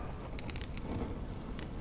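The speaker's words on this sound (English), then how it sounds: "When will this rain ever stop?" Rain falls in the game Honkai Star Rail as a continuous soft hiss, with a few brief sharper spatters of drops against it and no voices.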